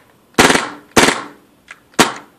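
A KWA KRISS Vector airsoft gun fires short full-auto bursts: three sharp rattling bursts about half a second apart, with a tiny click between the second and third, close and loud with no talking.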